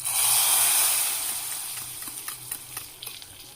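Hot tempering with spice powder is poured into dhal for a Punjabi-style dhal tadka, giving a loud hissing sizzle that fades gradually, followed by a few soft stirring clinks nearby.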